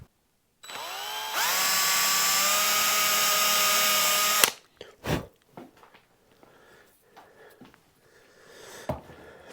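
A power drill with a 2 mm bit bores into a Telecaster guitar body, a high whining spin-up held steady for about four seconds, then cut off, followed by faint handling knocks and rustles.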